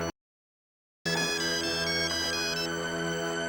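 Phone ringtone chiming out a bright, melodic electronic tune, loud and close, starting after a second of silence and playing steadily to the end.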